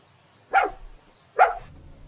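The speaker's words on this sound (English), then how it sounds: "The friendly dog wags its tail and barks happily." Two short, bright barks from a dog, about a second apart, close and clear with quiet between them.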